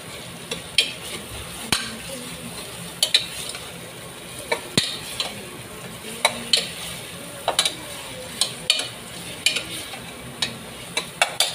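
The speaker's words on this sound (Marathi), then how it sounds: "जो आपण मिरची वाटलेली होती, पेस्ट केली होती, ती मिरचीची पेस्ट घालतोय." Ground green chili paste is stirred into a pan for mix-vegetable pav bhaji: sharp, regular spoon scrapes and taps against the pan over a faint, low sizzle.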